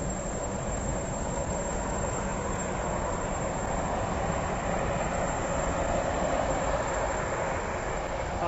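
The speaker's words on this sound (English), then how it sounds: "They're built by Boeing, and they sound like a Boeing jet engine." A Boeing-built hydrofoil ferry passes with a loud, continuous jet-like roar that holds steady throughout and is heard from nearby without talk.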